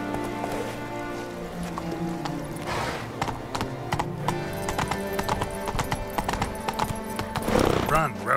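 Horse galloping in The Witcher 3: Blood and Wine, rapid rhythmic hoof clip-clops at close range with a whinny, under game voices and background music.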